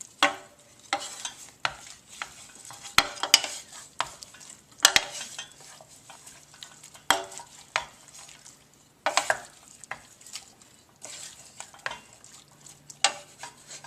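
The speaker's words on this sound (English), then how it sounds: "we're going to mix them up with the beans" Meatballs and fava beans are mixed together in a pan, giving an irregular run of close spoon scrapes and clatters over a low sizzle, with brief pauses between bursts of stirring.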